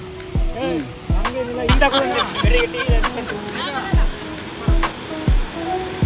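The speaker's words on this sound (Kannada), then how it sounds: "ಓ ಇದೇ ಫಾಲ್ಸು" Mallalli Falls waterfall in Coorg, a constant broad rushing roar beneath loud nearby voices and repeated low thumps from people moving close by.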